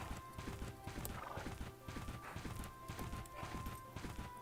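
Horse hooves clip-clop in a steady, fast galloping rhythm inside the Bella Sara video game, with brief whinnies and a faint chime tone running over the continuous, close hoofbeats.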